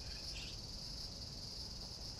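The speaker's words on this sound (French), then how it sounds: "Vous entendez ça? Ça aussi, c'est l'été au Japon. Les grillons" Crickets chirp in a Japanese summer, a steady high continuous trill held throughout at moderate loudness, alone with no voices.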